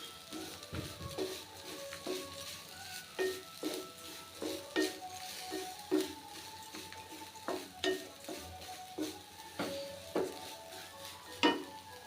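Ground coconut dry-roasting in a pan for a Kerala garlic theeyal, a spoon scraping and stirring in steady rhythmic strokes about once a second, with a soft crackle underneath, close and moderately loud, no talking.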